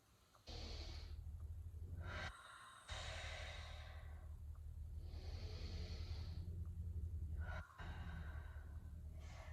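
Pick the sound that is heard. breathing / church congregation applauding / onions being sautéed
breathing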